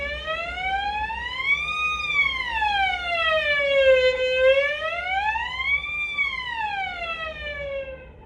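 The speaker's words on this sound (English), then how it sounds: "So on the violin, there's actually lots and lots of spooky sounds we can make" Violin bowed very slowly while a finger slides up and down the string, giving a smooth, eerie, siren-like glissando that rises and falls in long sweeping waves, steady and fairly loud with no talking.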